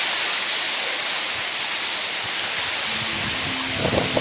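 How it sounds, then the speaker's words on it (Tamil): A waterfall near Chennai roars in a loud, steady broadband rush of falling water, close by, with faint voices emerging near the end. "அருவியோட ஸ்பீடு பார்த்தாவே தெரியும் எவ்வளோ வேகமாக தண்ணி ஊற்றுதுன்னு."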